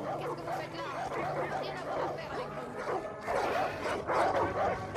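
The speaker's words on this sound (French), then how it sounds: "Ah mais il y a des chiens là-dedans." Dogs barking and yipping inside a building in the video game Far Cry 5, a busy run of overlapping barks and whimpers over game ambience and background voices, growing louder toward the end.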